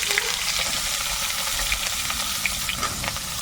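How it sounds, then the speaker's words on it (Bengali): Eggplant pieces fry in hot oil in a wok, giving a steady close sizzle with light crackles and occasional stirring clinks, no voices over it. "বেগুন দিয়ে দেবো কড়াইয়ে"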